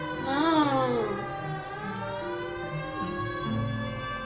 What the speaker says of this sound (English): if you click the left trigger, it's the siren.